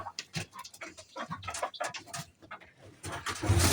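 A young rooster squawks and clucks in bursts as it is caught, with sharp, irregular cries close by and a louder flurry of noise near the end.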